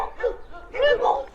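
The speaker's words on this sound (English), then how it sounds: "What a big puppy." A big young dog at an animal sanctuary gives short, soft barks and whimpering sounds close by, with a person talking at the same time.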